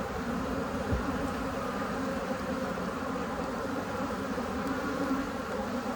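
Honey bees swarm around an open beehive, a constant dense buzzing hum that fills the whole stretch evenly at close range, with no voices.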